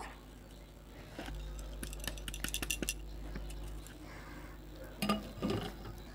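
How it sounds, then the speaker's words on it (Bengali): A metal sieve is shaken to sift flour mixed with baking powder and salt, giving a run of light metallic taps and clinks close by, then a few louder knocks. "এবার এটাকে একসঙ্গে এভাবে চেলে নেব।"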